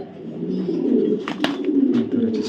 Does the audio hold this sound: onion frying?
no